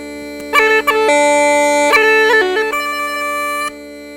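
Uilleann pipe drones sound alone as a steady reedy hum, with several sustained tones layered together and shifting pitch a few times before cutting off.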